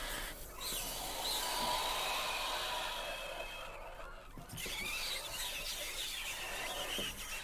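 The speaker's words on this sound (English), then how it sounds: "that definitely sounds like some flood screeching, flood squeals" Shrill screeching and squealing Flood creature cries from Halo Infinite, dense and layered over a noisy game soundscape, continuous with brief dips, fairly quiet overall.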